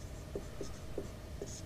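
Pen writing on paper while working a ratio problem for a class 10 maths lesson: a few faint, short scratching strokes in an even rhythm over a quiet background.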